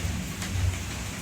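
Steady rain falls outside, a dense, even hiss of drops on surfaces with a slightly louder swell midway and no voices.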